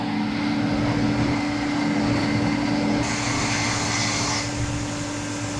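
A Tormach CNC mill cuts a slot for a rod end into a steel splitter bracket with an end mill, producing a steady, loud whining drone with a constant tonal hum; the pitch shifts slightly partway through.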